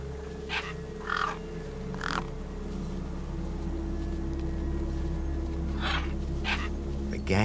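Gang crows in the video game Beyond a Steel Sky caw over a corpse: a few harsh calls early, then a pair of louder caws near the end, all set against a constant low droning background.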